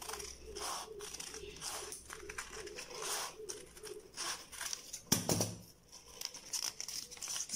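Scissors cutting through paper around a traced sandal pattern, giving repeated snips and soft crinkling of the sheet, close and fairly quiet, with one louder rustle partway through and no speech.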